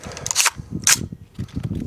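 Rapid gunfire from a rifle fitted with a forced reset trigger and a carbine buffer, loud sharp cracks in quick bursts with short gaps, heard close at an outdoor shooting session.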